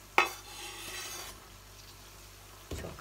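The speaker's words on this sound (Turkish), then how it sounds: "üzerine doğradığım şevketi bostanları boşaltıyorum" A sharp hiss as chopped şevketi bostan greens drop into a hot pan of sizzling lamb, then steady quiet sizzling, followed by a brief scraping stir near the end.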